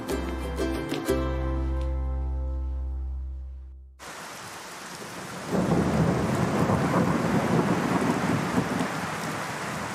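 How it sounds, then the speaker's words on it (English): Rain falls steadily in a garden with a heavy hiss of drops, and low thunder rumbles beneath it, after a few seconds of closing music. "We've been longing for rain, so it's wonderful to have rain"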